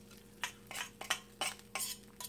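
Dishes and cutlery clink while washing up after a fish catch-and-cook, with about seven light, separate metallic clatters spaced irregularly over a soft background hum.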